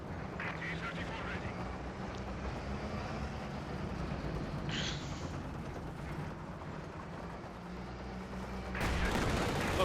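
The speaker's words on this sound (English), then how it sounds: "They're getting blasted by machine gun fire." Distant bursts of machine gun fire in a Company of Heroes 2 1v1 match, mixed into a dense battle din of artillery and engine rumble, with a commentator talking over it.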